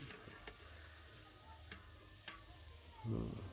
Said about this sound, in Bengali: রান্নার কাজ শুরু, প্রথমেই পেঁয়াজ দিয়ে দিল।